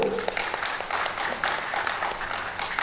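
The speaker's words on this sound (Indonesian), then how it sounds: "silakan berikan tepuk tangan Bapak Ibu" Graduation audience at STMIK Kristen Neumann Indonesia applauds a newly called graduate, a steady dense patter of many hands filling the hall at moderate loudness without a clear break.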